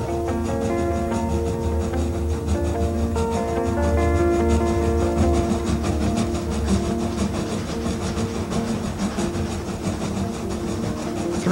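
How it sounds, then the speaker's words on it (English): A steam train rolls steadily with a constant mechanical rumble and faint rhythmic rattling, loud and close, continuing throughout without voices. "The kids loved the rocking motion of the train, the sounds of the puffing engine"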